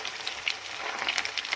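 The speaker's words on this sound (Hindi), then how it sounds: "इसी तरह से धीमी आंच में हमें फ्राई करना है" Semolina rasgullas fry slowly in oil over low heat, giving a soft, continuous sizzle with faint crackling pops, close and quiet.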